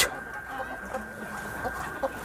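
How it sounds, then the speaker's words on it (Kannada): Chickens, including black Kadaknath hens, cluck softly on a small farm, with scattered short calls over a steady background hiss and no clear talking. "ಕೋಳಿನೂ ಐತೆ ಸರ್, ಬನ್ನಿ ಸರ್"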